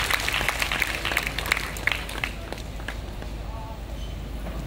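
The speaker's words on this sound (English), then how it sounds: "So let's give it a round of applause." A crowd applauds at the launch of the first 5G phone in the Philippines, scattered clapping that is strongest at the start and thins out gradually, heard at moderate distance with some room noise.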